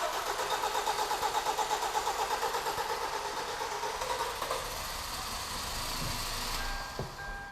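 A Kia Cerato with a G4KD engine, just back from repair for scuffing and knocking, cranks with rapid rhythmic churning, catches, and settles into an even idle, heard close and alone.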